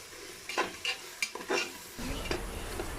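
Ginger garlic paste sautés in a pan for chicken biryani: a series of scraping stirs and clinks of a spoon against metal, then a broader, louder sizzle takes over; close and fairly quiet, no voices.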